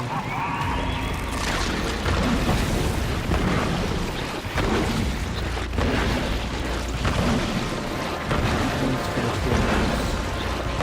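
A thunder and lightning storm in the video game Darksiders 3 sounds as a dense, continuous roar of rumbling and rain-like noise, loud and unbroken, with occasional heavier booming swells.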